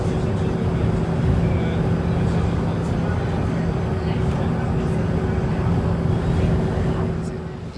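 A city bus pulls away from a stop, its engine and road noise forming a loud, steady broadband rumble close by that eases slightly as it departs.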